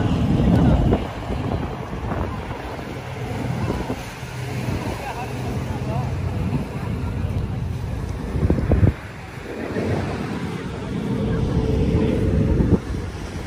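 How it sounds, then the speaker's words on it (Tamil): Strong wind on Sanya island, China, roars and buffets the microphone throughout, with low rumbling gusts and a voice talking faintly beneath it. "Because the wind is too big."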